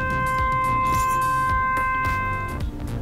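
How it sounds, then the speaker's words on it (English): A steady electronic door chime tone from a phone paging system rings out and sustains evenly for a few seconds, clear and close with no voices. "or door chime."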